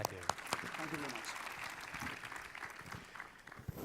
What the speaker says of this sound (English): I would appreciate a lot if you please clap very hard for these four panelists